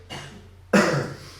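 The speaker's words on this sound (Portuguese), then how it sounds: "Está mal a tosse." Two coughs from a man, a light short one followed by a louder, harsher hacking cough that trails off over a fraction of a second, close up.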